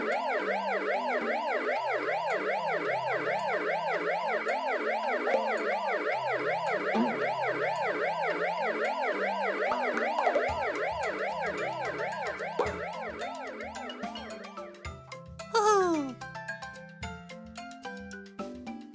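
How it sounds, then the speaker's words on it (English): A loud wailing ambulance siren sweeps up and down repeatedly, then changes pattern and fades as the vehicle passes, with other siren tones near the end. "An ambulance."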